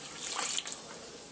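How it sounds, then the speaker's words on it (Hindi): Water is poured into Punjabi kadhi batter in a kitchen, a short splashing trickle that swells then tapers off with a few final drips. "तो चलिए अभी हम इसमें अपना पानी डाल देते हैं"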